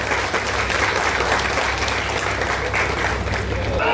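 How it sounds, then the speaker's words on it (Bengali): An audience claps steadily at a political party joining ceremony in Malda, where a leader switches from Trinamool Congress to Congress. The dense applause runs throughout with voices faintly mixed in. "প্রত্যেকে একটু হাততালি দেবেন।"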